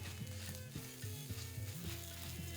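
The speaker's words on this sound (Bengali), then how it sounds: "এখানে দিয়ে দিন কারি পাতা ফ্লেভারের জন্য। আর তারপর সেটাকে ভালো করে ভেজে নিন।" Quiet, steady sizzling of curry leaves frying in hot oil for sambar, with a soft melodic tone running underneath.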